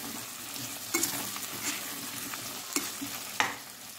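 Potatoes fry with spice masala in a pan for aloo pulao, giving a steady close sizzle broken by a few sharp scraping stirs, with no voices.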